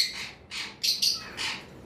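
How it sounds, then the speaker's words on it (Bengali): A male green Fischer's lovebird gives a short series of four shrill, bright chirps close to the listener, separated by brief pauses, with no voices. "দেখতে পাচ্ছেন মেলটা কিন্তু কিভাবে কল দিচ্ছে, খুব সুন্দর মেলটা ডাকে"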